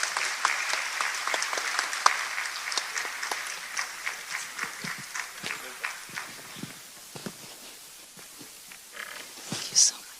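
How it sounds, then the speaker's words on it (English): Audience applause for a panelist at the TICAD-9 business dialogue in Yokohama, Japan, a steady stream of claps with speech over it, fading gradually toward the end. "A big round of applause, please, for His Excellency."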